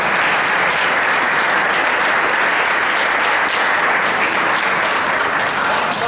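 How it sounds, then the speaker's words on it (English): A loud, dense round of applause at a school board of education meeting, honouring a student: continuous, close clapping from many hands, steady and unbroken throughout. "Give her a round of applause."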